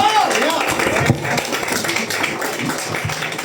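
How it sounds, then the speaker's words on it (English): A room full of people applauds for Noelle at a fundraiser Q&A panel, with steady, dense clapping that holds from start to finish at a fairly loud level. "everyone put a round of applause for Noelle"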